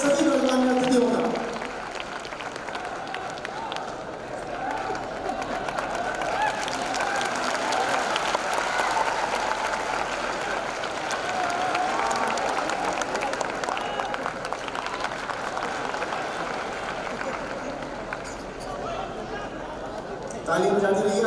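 An audience in a hall applauds to welcome honoured guests at a teachers' felicitation event, sustained dense clapping that swells and continues for a long stretch with voices over it.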